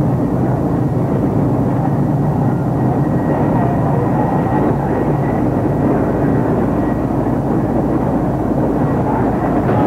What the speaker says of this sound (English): Helicopters buzzed overhead around the city centre